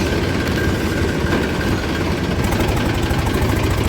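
A farm tractor engine runs at a steady pace, a loud, close, continuous heavy chugging with an even knocking pulse and no pauses.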